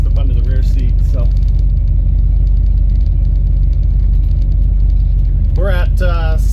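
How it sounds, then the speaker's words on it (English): A deep, loud big-block exhaust from a 1976 Chevrolet C10 Suburban rumbles steadily through two 40 series Flowmaster mufflers, with a voice talking over it at the start and end. "I call this a muscle truck sound because it's got just those two 40 series Flowmasters out"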